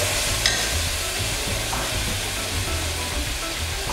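Chopped tomato and coriander sautéing in a pan for nalli kurma, a steady close sizzle with repeated low scraping stirs from a spatula, heard alone without voices.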